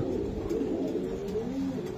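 Racing pigeons from a loft coo steadily in a low, continuous murmur close by, several birds overlapping with no clear pauses.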